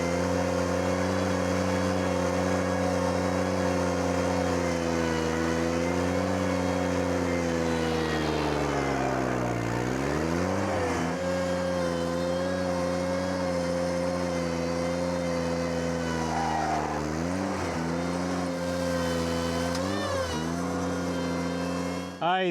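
Ventrac compact tractor engine running steadily on a rock driveway, a loud continuous drone whose pitch sags and rises as the load changes, with no pauses throughout.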